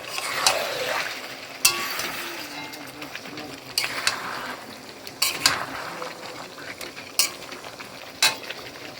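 Chicken frying with whole garlic cloves in a pan, a spoon scraping and stirring in irregular clatters over a soft, continuous sizzle, close by.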